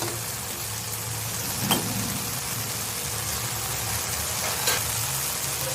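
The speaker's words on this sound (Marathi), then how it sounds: "त्यामुळे आपण थोडंसं परतून घेऊया" Sev tomato bhaji sautéing in a pan makes a close, continuous sizzle and frying crackle, with two sharp scrapes of stirring about three seconds apart and no talk.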